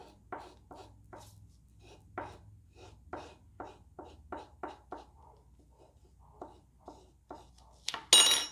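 Scraping ink residue off playing cards, a few cards at a time, to make prison-style tattoo ink: a run of short, dry rasping strokes at a steady rhythm, close and faint, ending in a brief louder scrape.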